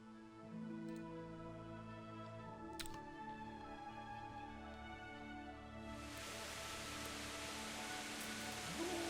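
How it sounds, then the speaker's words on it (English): Rain in the medieval role-playing game Kingdom Come: Deliverance, a soft steady patter that swells into a dense, loud hiss over the last few seconds above a faint sustained tonal background. "Oh, the sound of rain. I love it."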